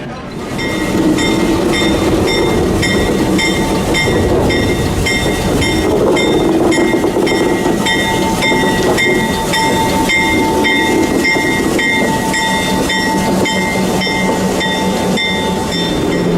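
The Santa Fe San Francisco Chief, train number 2, departs on its inaugural run in 1954 with the business car Santa Fe on the rear, producing a loud, steady rumble with rhythmic wheel clatter sustained throughout.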